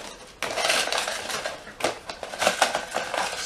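Numbered paper slips shuffled inside a small box for a prize draw, a close rustling, clattering jumble in irregular bursts after a short quiet start.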